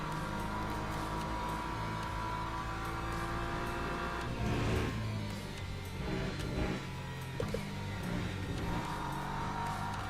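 A BMW race car in a racing video game, prepped for a six-hour endurance race at COTA, runs with a steady engine drone throughout, its pitch rising and falling with throttle and gear changes around the middle.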